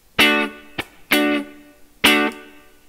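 An electric guitar plays a well-known chord riff in short, choppy strummed hits, three main chord stabs with brief muted scratches between, close and dry.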